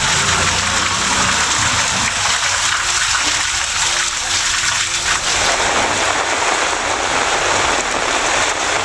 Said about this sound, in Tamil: சுமார் அரை மணி நேரம் பெய்த கனமழை